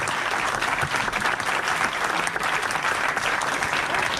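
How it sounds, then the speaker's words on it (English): A live audience applauds after an interview with trail runner Ryan Sandes, with steady, dense clapping from many hands that holds at an even loud level throughout. "can we give Ryan a round of applause?"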